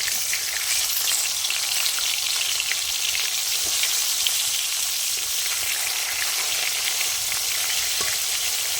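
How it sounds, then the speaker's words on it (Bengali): Koi fish frying in hot oil in a wok as the pieces are turned over, giving a steady, close, dense sizzle with faint scraping of the spatula and no talking. "মাছগুলো এবার আমি উল্টিয়ে দেবো।"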